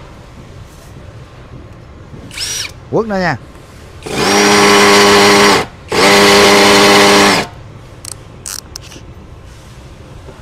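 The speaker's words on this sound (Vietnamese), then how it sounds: "Rồi vô, mình khoan thử cho mọi người coi nè." A cordless drill with two 5-cell batteries on a standard Makita-style mount runs in two loud sustained bursts of about two seconds each, a steady whine with a brief gap between them, after a short rev and some talk.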